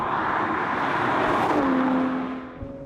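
A Novitec-tuned Ferrari 812 engine drones steadily, then the pitch shifts as it eases off, with a smooth whir and tire hum of driving on a road.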